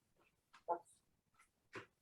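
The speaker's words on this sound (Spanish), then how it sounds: "voy a encerrar a mi perrita, si no me voy a dejar en paz." A small female dog gives a few faint, thin whimpers and short whines, separated by brief pauses, quiet and somewhat distant in an otherwise hushed room.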